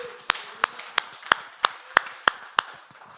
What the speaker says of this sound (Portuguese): Uma salva de palmas ao Senhor que fez isso por nós